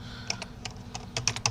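Fingers tap on a computer keyboard at a Linux command line, a brief run of about a dozen light, quick keystrokes, close and fairly quiet.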